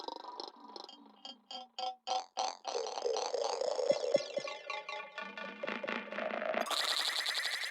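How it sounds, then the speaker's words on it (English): An odd, organic-sounding synthesized texture made with a Max for Live device: stuttering chopped bursts give way to a dense, warbling, bubbly wash, ending in a bright buzzing high layer, loud and with no voices. "It's like really weird organic kind of texture."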